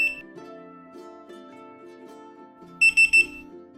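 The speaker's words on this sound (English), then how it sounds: "Press and hold the Learn Code button until you've heard 3 beeps." Three short electronic beeps from a garage door opener's remote control receiver sound while its Learn Code button is held, rising clearly over a steady background hum near the end.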